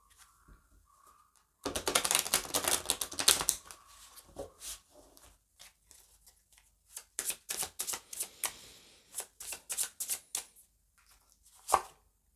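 Tarot cards being shuffled by hand close up, a long dense riffle followed by a series of quick crisp flicking bursts and short pauses, with no talking.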